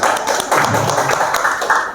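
An audience claps its hands in steady, sustained applause at a birthday gathering, loud and close, filling the whole moment without voices.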